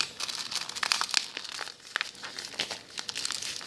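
Close, crisp crinkling and rustling of paper being folded and creased around kuka prayer beads, in irregular bursts without speech.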